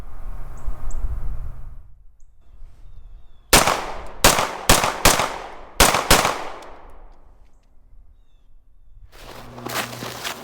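Rapid pistol shots from a Smith & Wesson 5904 fired at targets on a range: one shot, a quick group, then more in fast succession, six sharp loud cracks close by with ringing decay between them.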